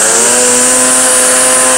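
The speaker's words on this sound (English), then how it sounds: "That's my electric weed whacker." An electric string trimmer whines steadily up close, a constant high-pitched motor hum with a strong sustained tone and no pauses.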